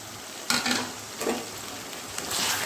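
A ginger, garlic, green chili and onion paste fries in oil for chicken do pyaza, a close steady sizzle broken by a few louder stirring swishes, with no speech.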